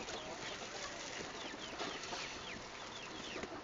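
Five chickens in a cage clucking and rustling, faint busy clucks over a steady noisy background with occasional flapping.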